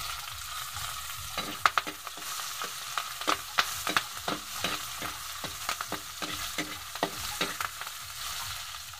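Garlic, ginger, onion and chili sauté together for chicken sinarsahan, a continuous close sizzle punctuated by frequent sharp scrapes and taps of a spatula stirring in the pan, with no voices.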